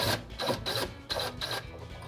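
A Phillips screw is driven out of a Whirlpool dishwasher mounting bracket with a power driver, giving a rhythmic series of short buzzing whirs in close, quiet bursts.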